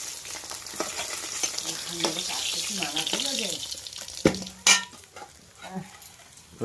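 Snakehead fish fry in a wok, a steady close sizzle with crackles and a few sharp clanks of a utensil against the pan, while faint background voices and other household sounds drift in.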